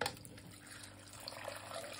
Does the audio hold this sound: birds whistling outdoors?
no